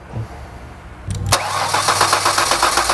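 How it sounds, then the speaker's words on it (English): A 1998 Ford Contour with a no-start fault cranks briefly, then catches and settles into a steady, close idle that runs to the end. "crank that engine for me again, just so that I can see if I can get fuel to come out"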